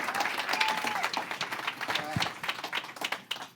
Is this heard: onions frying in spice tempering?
no